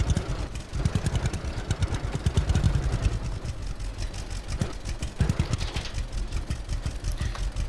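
Tractor engine in the farming video game Farmer's Dynasty, a steady low chugging idle with a rough, pulsing clatter that continues evenly throughout.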